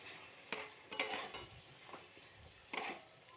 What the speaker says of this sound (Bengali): খুব ভালো করে মশলাটা দিয়ে কষিয়ে নেব মাংসটা